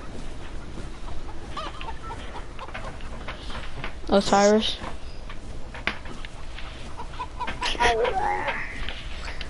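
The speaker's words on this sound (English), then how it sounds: "Do you like my chicken glider?" A chicken glider in a video game clucks in short bursts, with a rising chicken call standing out midway and another near the end, under ongoing casual talk from players.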